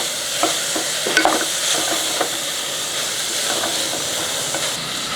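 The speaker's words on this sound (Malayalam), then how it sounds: "ആ സവോള അങ്ങോട്ട് ഇട്ട് കൊടുക്കുക. ഇതെല്ലാം കൂടെ ഈ കൂട്ടി ഇളക്കി നല്ലപോലെ ഒന്ന് വഴറ്റിയെടുക്കണം." Sliced onions sauté in a pan for mutton stew with a continuous frying sizzle and hiss. A spoon stirs them, making a few scraping clatters early on.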